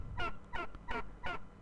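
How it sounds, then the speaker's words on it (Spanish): Four honking goose calls come in an even rhythm, each a short nasal blare about a third of a second long, repeated with brief gaps over low background noise, as in an animal sounds game. "es el sonido de un ganso."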